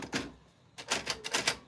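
Close, crisp clacks of a manual typewriter, a strike and then a quick burst of several keys near the end, with no voices.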